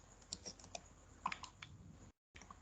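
Typing on a computer keyboard while entering a mathematical inequality into Geogebra software: a quiet run of irregular, light key clicks with a couple of slightly louder taps, then a brief gap before the clicking resumes.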